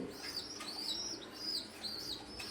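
Pigeons chirping and calling in a loft with young squabs among them, a steady run of thin high peeps and twitters with soft wing flutters, fairly close and moderately loud, no talking.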